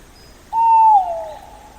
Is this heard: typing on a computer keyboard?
no